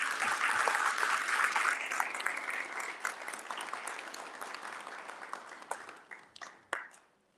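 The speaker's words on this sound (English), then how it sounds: "Let's have a huge round of applause" A crowd applauds warmly, dense clapping at first that slowly thins out and fades to a few scattered claps at the end.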